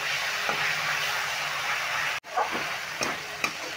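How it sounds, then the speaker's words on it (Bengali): Spice paste being sautéed with capsicum in a pan, a steady close sizzle and frying hiss with a few scraping stirs, no voices. "মশলাটা খুবই ভালো করে কষিয়ে নিতে হবে।"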